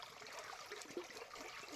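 Spring water seeping from the ground above a dam on a Chikkamagaluru plantation trickles faintly and continuously, soft gurgles and small splashes in a quiet setting.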